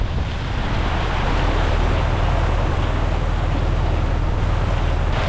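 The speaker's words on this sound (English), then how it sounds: "Starting to hail." Hail pelts a sailboat during a violent squall, a loud, continuous rattling wash mixed with wind roar and sea noise, steady throughout with no voices.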